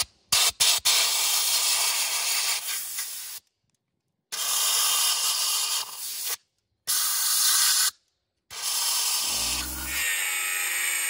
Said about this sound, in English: Going to use the compressor to blow out the holes before I put the chemical cement in.